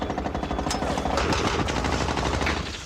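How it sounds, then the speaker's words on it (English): Heavy .50 cal machine gun fire in Afghanistan, loud continuous bursts of rapid, clattering shots rolling through the whole moment with dense echoing reports close by. ".50 cal fire in there."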